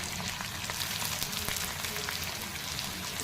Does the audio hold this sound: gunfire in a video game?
no